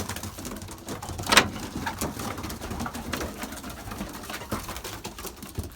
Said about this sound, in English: We got quite a lot of birds in here already.